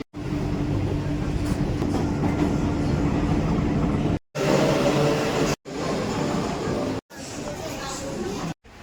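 A Kolkata Metro train runs with a loud, steady rumble that lasts about four seconds. Several short bursts of the same running noise follow, each broken by a brief gap, and faint voices and babble are present underneath.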